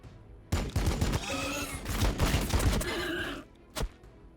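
Squads open fire in the video game Warhammer 40000 Battlesector, a dense burst of rapid loud gunshots and impacts lasting about three seconds, followed by one more single shot.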